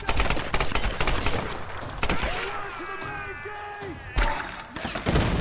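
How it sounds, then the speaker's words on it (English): Rapid bursts of gunfire and blasts crackle in quick clusters from the video game Tomb Raider (2013), with a voice speaking briefly in the middle and more shooting at the end. "Do you hear the explosions?"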